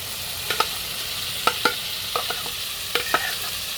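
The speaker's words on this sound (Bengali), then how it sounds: "এবার ভালোভাবে মশলা এবং মাংসগুলো নাড়িয়ে ছাড়িয়ে দেবো ভালোভাবে মশলাগুলো মেশাতে হবে" Broiler chicken pieces with spices frying in a pan, an even sizzle broken by four paired scrapes of a stirring spoon at regular intervals, close and with no talking.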